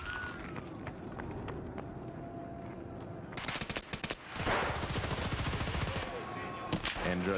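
AUG rifle fire in Rainbow Six Siege during a competitive esports match on the Equator map: rapid bursts of automatic shots, dense and loud, layered over footsteps and game ambience, with caster commentary running beneath.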